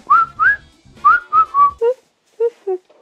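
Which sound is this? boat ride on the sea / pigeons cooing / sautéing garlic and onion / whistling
whistling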